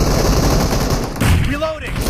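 An S12K shotgun firing in a video game, rapid loud close blasts in a dense burst, with in-game announcer voice lines and effects mixed in.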